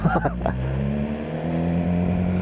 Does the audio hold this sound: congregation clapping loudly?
no